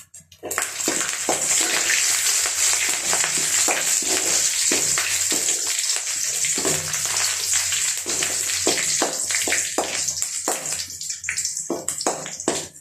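Curry leaves sizzling and crackling in hot oil in a pan for village-style buttermilk rasam, a steady, close, loud hiss with scattered pops running throughout.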